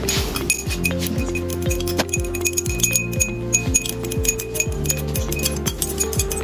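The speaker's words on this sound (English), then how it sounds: "Now we will stir it." A spoon stirs a milky soap mixture of oil and sodium hydroxide solution in a glass container, ringing out a steady, rhythmic series of bright clinks against the glass.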